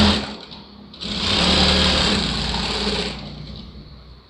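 Sewing machine stitching the folded hem of a blouse lining, a close whirring run that starts softly, rises to a steady fast stitch for a couple of seconds, then eases back down.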